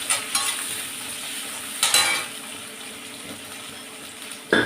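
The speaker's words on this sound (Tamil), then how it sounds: "கட் பண்ண வெங்காயம், கருவேப்பிலை, தக்காளி எல்லாத்தையும் போட்டு நல்லா வதக்கிடுவேன்." Onion, curry leaves and tomato sauté in a pan for bitter gourd fry, with a steady soft sizzle broken by a few sharp stirring scrapes and clinks of a spoon, close by and with no voices.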